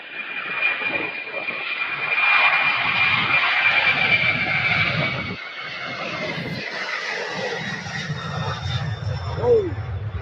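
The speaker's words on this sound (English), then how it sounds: "767 departing." A Boeing 767 jet departs from the runway at Louisville airport, a loud sustained engine roar with a high whine, heard from a distance, easing off later while faint voices and wind noise come through.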